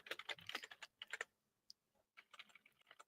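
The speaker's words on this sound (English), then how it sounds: "I was typing" Fingers type on a computer keyboard nearby, quick irregular bursts of clicking keys with a brief pause in the middle before the typing resumes.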